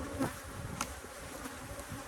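Honey bees in a hive hum in a low, continuous drone up close, the nurse bees and queen inside a cardboard box split, with a couple of brief louder buzzes passing near.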